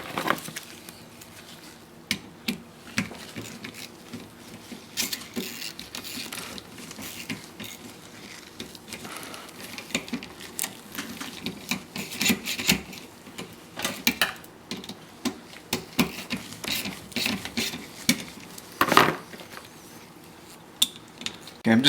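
Small metallic clicks and ratcheting taps while a bolt is tightened on a Toyota Camry window motor assembly, irregular and close, with a busy mechanical clatter running throughout.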